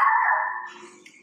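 A single short dog bark inside a home, close and fairly loud, tailing off into a faint whine, with no talk.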